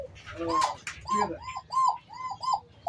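Nearby, red Koka pigeons with tiger-colour markings give a run of about six evenly spaced, throaty coos that follow one another in a steady rhythm.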